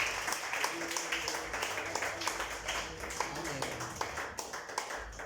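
A church congregation at an evening service gives a strong round of applause to Christ Jesus, steady clapping with distinct individual claps rising above a low murmur of voices.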